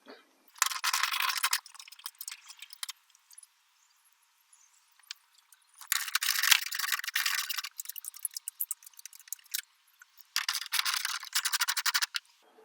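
Headlight bolts come out of a Honda Odyssey with three bursts of rapid, close, dry ratcheting clicks, separated by near-silent pauses.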